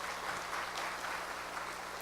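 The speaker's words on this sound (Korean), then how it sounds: "한번 박수 한번 쳐주세요" A church congregation gives a short burst of steady, even applause for the youth gathered at a revival meeting, moderately distant and without speech.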